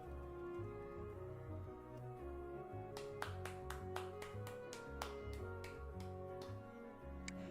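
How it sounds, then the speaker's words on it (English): A clapping sound effect triggered on a live stream, a run of quick, sharp, evenly spaced claps sitting over a steady background music bed, fairly quiet overall. "Very enthusiastic clapping."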